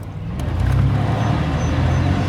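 A van being driven, with a steady low engine and road rumble that holds level over a couple of seconds, close and moderately loud, with no talk.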